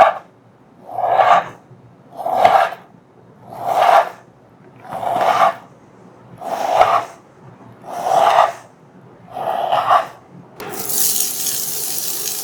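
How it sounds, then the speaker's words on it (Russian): A knife slices a small piece of pork fat into small pieces, eight rhythmic rasping strokes at about one per second close by, then a brief rustling scrape. "И для этого небольшой кусочек я нарежу на небольшие одинаковые кусочки."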